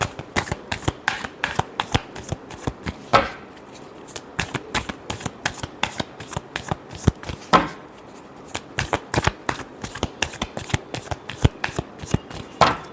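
Tarot cards being shuffled by hand, a rapid run of crisp riffling flutters repeating close up at a steady pace with brief pauses, no speech over it.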